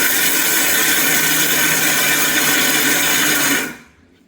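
Mixer grinder pulsing wheat grains, a loud, steady whirring grind that runs continuously for over three seconds, then cuts off abruptly into near silence.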